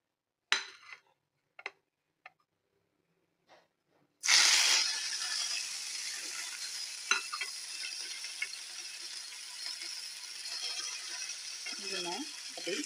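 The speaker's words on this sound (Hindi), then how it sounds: "दरमियानी आँच पे हमने चूल्हा गरम कर लिया, पैन गरम कर लिया, उसमें हम अपना बघार का सामान डालते हैं।" Tempering spices hit a hot pan over medium heat for bottle gourd raita, bursting into a steady hiss and sizzle that continues after a few soft clinks and taps, with a voice speaking at times.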